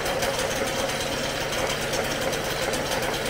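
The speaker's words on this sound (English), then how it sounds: "We have a running, idling engine for the first time in parts canning garage history." A 1994 Mercury longshaft 5 hp outboard motor idling in a garage, a steady, close, rapid mechanical chatter with even ticking and no speech.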